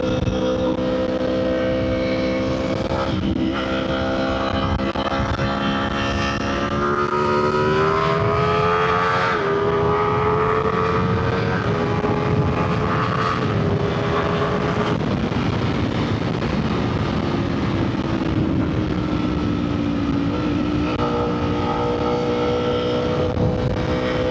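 Ducati Panigale V4 motorcycle engine and exhaust rising and falling through the revs, with a burbling note on and off the throttle, loud and close under steady wind noise.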